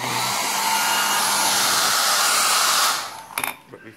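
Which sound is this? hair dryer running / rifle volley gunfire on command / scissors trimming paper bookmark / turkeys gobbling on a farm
hair dryer running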